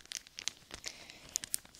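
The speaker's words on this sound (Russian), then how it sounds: "Мягкий пакетик." A soft plastic packet crinkles close up, irregular crisp rustles and sharp little crackles scattered across the moment, quiet and intimate with no voice over it.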